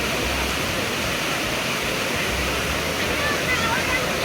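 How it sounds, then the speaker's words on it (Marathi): Amboli waterfall beside the main road on the Vengurla–Belgaum highway roars in a dense, unbroken rush of falling water, close and loud throughout. "आंबोलीचा धबधबा"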